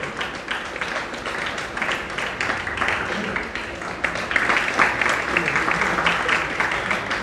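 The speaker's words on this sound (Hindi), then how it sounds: "एक बार जोर से उनको ताली बजाइए।" An audience at a Veershaiv Lingayat Jangamwadi Math religious event in 2022 claps steadily in a dense, continuous wash of applause that swells slightly toward the end.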